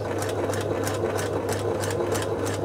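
A 1974 Singer Genie 354 sewing machine runs steadily at close range, a fast regular mechanical whir with rapid rhythmic ticking from the needle drive, heard alone without talk.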